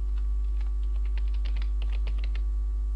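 Typing on a computer keyboard during a Microsoft SQL Server 2005 lecture, a quick irregular run of light key clicks over a steady low electrical hum, with no talk.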